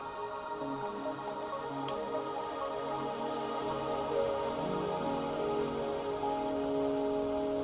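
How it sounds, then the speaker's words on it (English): Steady rain falls in the Wuthering Waves video game, a soft, continuous patter on surfaces with occasional drips, even and unbroken throughout, with no voices. "Are you trapped here by the rain?"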